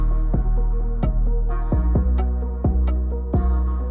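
Vocal pitched down a full octave through a vocal transformer effect in a Post Malone style ambient chain, a super deep, droning voice over a steady beat with regular percussive hits.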